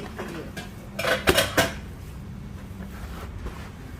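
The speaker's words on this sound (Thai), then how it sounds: "คนทุกอย่างให้มันเข้ากันนะคะ ให้มันเข้าเนื้อหมู" Ground pork mixture for hamburger patties being stirred in a bowl, with a brief cluster of clinks and scrapes from the utensil against the dish midway through, otherwise quiet.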